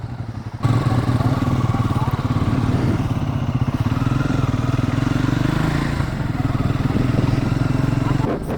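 A Triumph Scrambler 400X motorcycle on the road, its steady engine drone running loud and continuous with wind rush, riding at an even pace after a brief quieter start.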